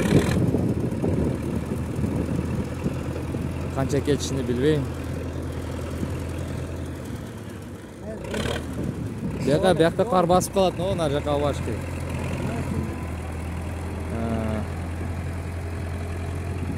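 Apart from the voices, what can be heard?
newly bought tractor engine idling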